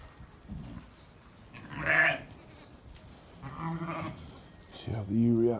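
Shetland ewe and lambs bleating on a Pembrokeshire lambing farm, with a few loud, close calls rising and falling alongside speech-like sounds at the start and end.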